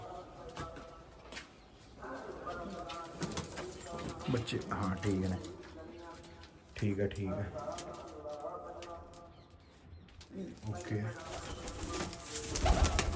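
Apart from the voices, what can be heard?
pigeons cooing on a farm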